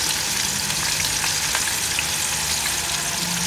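Snakehead fish fries in hot oil in a pan, a loud, constant crackling sizzle with small pops throughout, close and alone.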